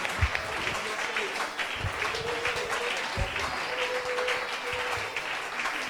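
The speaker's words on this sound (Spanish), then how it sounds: "¿Alguien tiene un aplauso para el Señor esta noche?" Church congregation applauding for the Lord during an evening Spanish-language service, a steady crowd clapping sustained throughout with a few louder low thumps mixed in.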